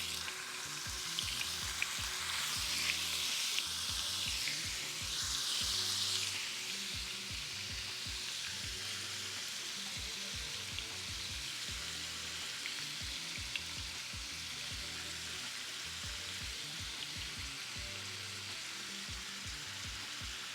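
Seasoned steak meat frying in a pan on medium heat, a continuous crackling sizzle that swells briefly early on, with occasional faint stirring, and no voices.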